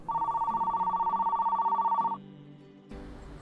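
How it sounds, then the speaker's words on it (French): A telephone bell rings in a steady, rapid trill for about two seconds, clear and fairly close, then cuts off, followed by quiet room sound. "C'est un téléphone qui sonne à 9h du matin"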